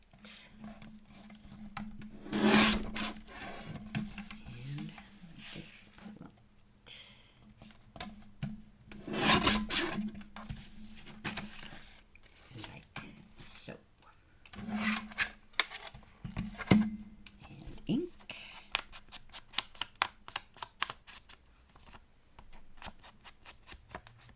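Paper being cut with scissors while folding three pockets from a single sheet, a run of soft rasping snips and rubs, some in quick rhythmic bursts, close and quiet with no talking.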